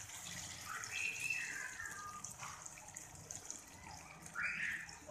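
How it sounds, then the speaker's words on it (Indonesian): Water pours into a cooking pot of chicken and vegetable soup, a soft, steady splashing trickle that swells twice, near and fairly quiet with no voices. "Kita masukkan kita punya air."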